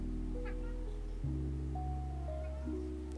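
A pet cat meows insistently close by, a couple of drawn-out calls over a steady low hum indoors.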